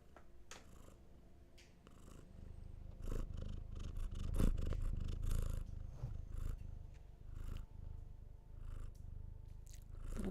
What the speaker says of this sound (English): A little bit of kitty purrs